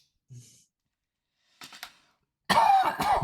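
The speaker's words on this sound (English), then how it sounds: "His voice makes me cough." A brief soft sound, then a short cough-like burst, followed by a louder, rougher cough with a strained voiced tone near the end.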